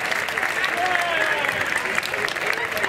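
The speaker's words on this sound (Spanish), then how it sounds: "Un fuerte aplauso para la Arena de San Pedro y sus vecinos" A crowd applauds at a twinning ceremony between San Pedro Alcántara and Arenas de San Pedro, with steady clapping from many hands and faint voices mixed in.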